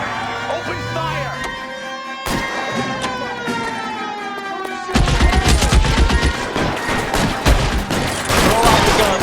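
Gunfire bursts from an LA Noire car chase, rapid shots layered over a wailing police siren and engine noise, growing louder and denser in the second half with voices calling out.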